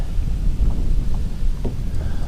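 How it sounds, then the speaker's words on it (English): Strong gusting wind buffets the microphone outdoors on a fishing boat during fall bass fishing after a cold front, a loud, continuous low rumble with no break. "I got some pretty good wind"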